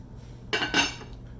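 A metal lid set down on a pot of cooking pasta, two quick close clanks of metal on metal with a brief ringing tail, alone in a quiet kitchen.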